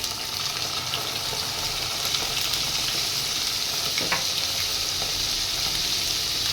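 Ginger, garlic and onion paste fries in a pan with a steady, dense sizzle and crackle throughout, joined by occasional stirring scrapes near the middle; no talking.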